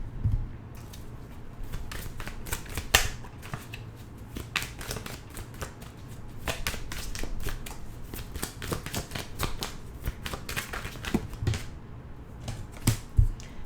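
Tarot cards shuffled by hand in a rapid run of crisp papery riffles and flicks, close and fairly steady, with no one speaking.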